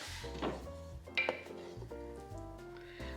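Pasta fagioli being stirred in a pot on the stove, with clinks and scrapes of a utensil against the pot and a few sharper metallic knocks, quiet and close.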